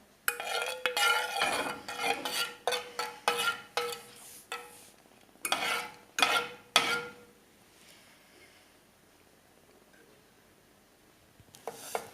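A saucepan on a stovetop where honey and butter are melting, with a utensil scraping and clinking against the pan in a quick series of close taps. After that comes a quieter stretch of faint background, and a few more clinks follow at the end.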